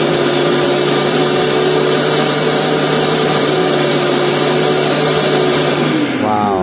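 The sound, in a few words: cheap multifunction food processor motor running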